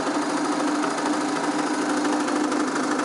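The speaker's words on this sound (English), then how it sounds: "motor has started running at 1000 RPM. Now we would like to apply the load and see what it happens" A permanent magnet brushless DC motor runs under load at about 1000 RPM, giving a continuous, dense buzzing whir that holds steady and fairly loud throughout, with no talk.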